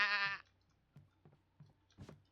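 A loud goat bleat from the video game Devour opens, followed by soft scattered clicks and thumps in an otherwise quiet scene.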